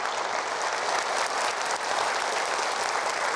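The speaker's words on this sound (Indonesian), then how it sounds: "Kita berikan aplaus untuk Yana." Talk-show studio audience applauding for a guest named Yana: dense, sustained clapping from a full crowd, even and loud throughout.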